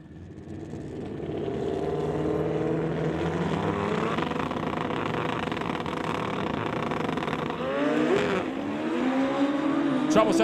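Pro Mod drag racing motorcycles launching off the line at a drag strip, one rider spinning the rear tire, a loud sustained engine roar rising in pitch with a brief higher whine near the end, under commentary.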